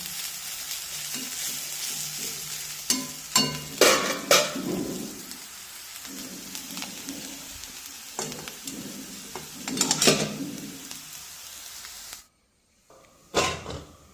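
Potatoes for a Kerala mezhukkupuratti stir-fry sizzle in a pan, with a continuous frying hiss broken by louder scraping stirs and clinks at intervals, then a brief silence near the end before one more stir.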